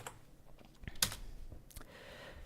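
Typing on a computer keyboard while setting up a French keyboard layout during a NixOS installation in a virtual machine; a few scattered, fairly quiet key clicks with one sharper tap, no voices.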